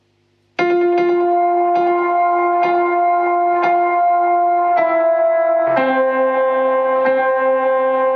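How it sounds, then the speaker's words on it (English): Sustained guitar notes through a GS-201 MKII echo and reverb unit, drenched in echo and reverb, each change ringing out and trailing into long repeating tails, loud and close with no talking. "Now you can hear the reverb, which I can increase the volume."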